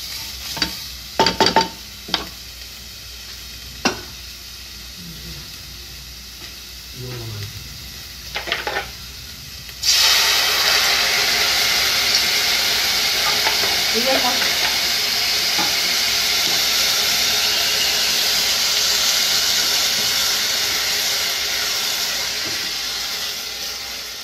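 Whole spices such as cinnamon and cardamom, with turmeric, frying in a pan, with scattered clinks of stirring before water is poured in, then a loud, steady hissing sizzle that continues for the rest of the time.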